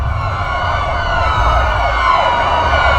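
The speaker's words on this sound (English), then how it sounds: "I do hate the sound of sirens" A siren wails steadily over heavy low traffic rumble, loud and continuous throughout, with no voices.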